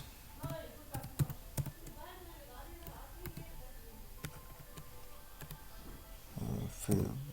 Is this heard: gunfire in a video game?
no